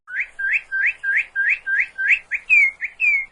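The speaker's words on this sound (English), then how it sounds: "cardinal" A cardinal calls with a clear run of about eleven sweet, rising whistled notes, evenly spaced and loud, the final few sliding downward, alone against a quiet background.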